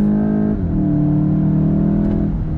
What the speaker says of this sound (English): On throttle, here we go. Down and we're off.